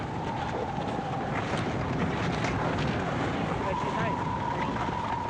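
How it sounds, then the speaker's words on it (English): Steady wind gusting across an open, unbroken polar ice sheet, a continuous broadband roar buffeting the microphone throughout with no breaks. "Mostly, though, the ice sheet offers an unbroken surface to the wind."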